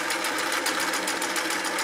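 A sewing machine runs steadily, stitching through sweater knit with orange thread, a dense continuous whirring hum with fast even needle pulses, close and loud, with no voices.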